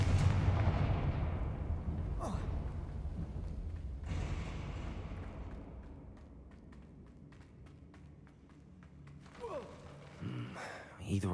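Blasting spell explosions in the Hogwarts Legacy video game boom with heavy low rumbles, several bursts with debris-like crackling and fading reverberation, followed by quieter scattered crackles and a few late impacts.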